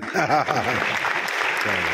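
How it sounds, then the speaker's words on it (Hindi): A brief patter of audience applause at a Hindi comedy poetry show in Kolkata, lasting under two seconds, with a voice speaking over the clapping. "आपने जो कम तालियां बजाई हैं"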